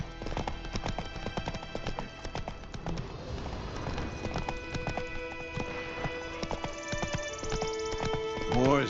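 Hooves of Roach, the horse in The Witcher 3, beat in a steady galloping clip-clop that runs continuously and up close, with game ambience and voices underneath.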